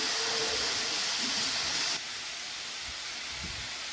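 Bitter gourd frying in a pan for curry, a steady loud sizzling hiss that drops slightly in level partway through and continues with faint low bubbling.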